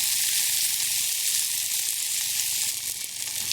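Tinned sardine and tomato mixture for a Bangladeshi sardine bhorta sautéing in a pan, a steady close sizzle and hiss that runs on without a break, with no voices.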